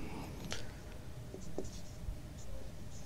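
Hand-writing on a board during a maths lesson makes short scratchy strokes and light taps in an uneven rhythm, close and fairly quiet.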